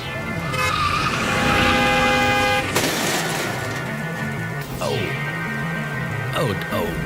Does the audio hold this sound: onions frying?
no